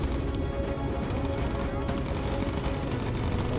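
Aerial gunfire from the bomber turrets in Bomber Crew, a dense, unbroken rattle of machine-gun fire over loud engine drone, heavy and continuous from start to end.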